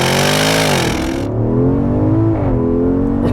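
Loud 2019 Porsche Cayenne Turbo launching hard, its engine roar climbing steadily through the gears with a brief shift dip, close and continuous with no talk over it.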